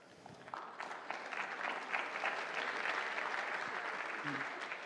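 Audience applause at a labor law congress welcoming a speaker, clapping that swells from scattered claps into a steady, moderately distant ovation.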